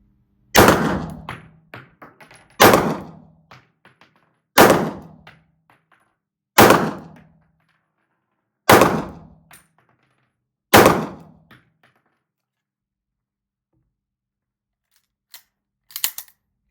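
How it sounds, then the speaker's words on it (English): Six gunshots fired at an indoor shooting range during a chronograph ammunition test, sharp loud reports evenly spaced about two seconds apart with ringing decays, then a few faint clicks. "fire another few shots"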